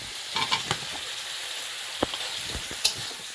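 Eggplant and potato drop into a spice paste already frying in oil, giving a steady faint sizzle with a few soft clatters and stirring knocks.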